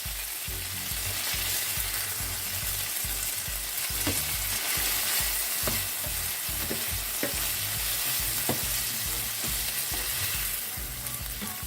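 Shrimp fry in a pot for a shrimp and vegetable stir fry, giving a loud, constant sizzle with repeated scraping stirs and light clinks throughout.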